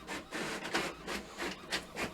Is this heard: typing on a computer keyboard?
no